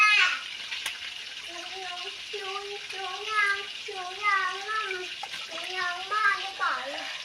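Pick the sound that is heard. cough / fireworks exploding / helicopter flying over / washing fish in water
washing fish in water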